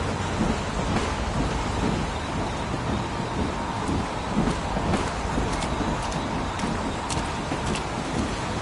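Dense, steady rain hisses loudly throughout with low rumbling thunder underneath and a few sharper crackles, a continuous storm without any voices, from the video game Heavy Rain.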